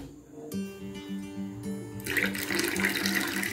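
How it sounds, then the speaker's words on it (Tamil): Water is poured into a churned buttermilk mixture with coriander leaves, a steady splashing flow that grows fuller and louder partway through over a continuous humming background. "கடைஞ்சி விட்டுட்டு தண்ணி விட்டுக்கலாம்."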